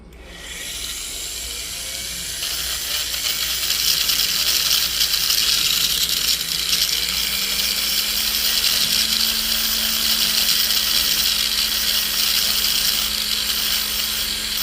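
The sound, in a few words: rotary tool stone grinding white gold ring shank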